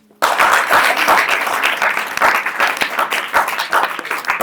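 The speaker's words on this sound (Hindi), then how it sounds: "अब ताली बजाओ" Gurukul students in a classroom clap together in loud, dense applause that starts abruptly and carries on steadily at close range with uneven rhythmic swells.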